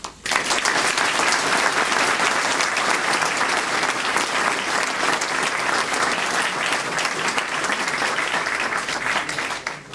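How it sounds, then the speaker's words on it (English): An audience applauds His Excellency the Bailiff at a Taste of Portugal event in Guernsey, a dense, sustained wash of clapping that stays loud and steady for the full stretch before easing slightly at the end. "Please join me in a round of applause to His Excellency the Bailiff."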